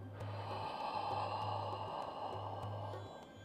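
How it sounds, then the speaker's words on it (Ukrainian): Deep inhale through a mouth rounded into an O shape during a kundalini yoga breathing practice, a steady, close airy rush lasting about three seconds before tapering off, with no talking. "Потім знову робимо вдих через рот буквою О."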